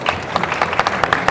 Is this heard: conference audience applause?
yes